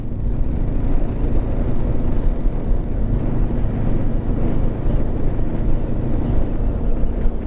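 A Royal Enfield Himalayan 450 motorcycle with a small 450 cc engine being ridden, giving a steady, loud engine drone and rushing wind noise that hold for the whole stretch.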